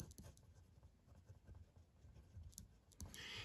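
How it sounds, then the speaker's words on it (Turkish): Handwriting on paper in a quiet classroom, with short scratchy strokes and taps of the pen, faint and close, in irregular bursts. "Hemen yazalım."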